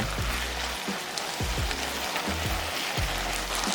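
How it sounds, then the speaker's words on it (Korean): Steady crackling sizzle of potatoes frying in perilla oil and anchovy fish sauce in a pan over medium-low heat, with soft low knocks at a regular rhythm as it is stirred. "지글지글 소리가 나면 3분 정도 볶아주고"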